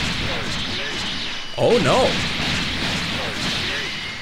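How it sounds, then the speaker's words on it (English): A spear explosion attack in the Dragon Ball Xenoverse video game bursts out as a short, loud crash amid ongoing game effects, with a person reacting over it. "Here he goes with the spear explosion again"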